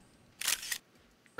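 Two quick camera-shutter clicks from a handheld in-game camera in Zelda: Tears of the Kingdom, a bright mechanical snap followed by a second shutter sound, alone against quiet background.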